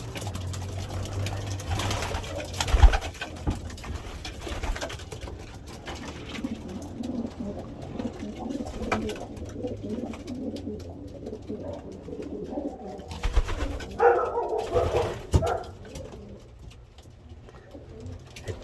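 Racing pigeons coo in a loft, soft repeated throaty calls from several birds close by, with wing flutters and rustling bursts at a few moments.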